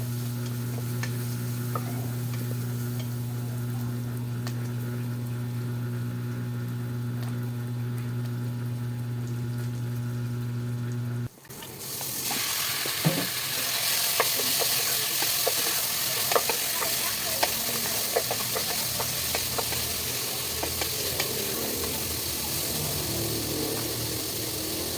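Food is stirred and fried in a pan, starting with a quiet stretch under a steady tonal hum, then breaking into continuous sizzling with scattered stirring clicks and scrapes for the rest, and no clear speech.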